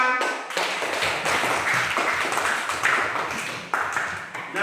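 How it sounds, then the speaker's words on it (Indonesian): Students in a classroom clap for a presenting group, a crowded, continuous patter of many hands close by that stays fairly even, with a brief lull near the end. "Mari tepuk tangan."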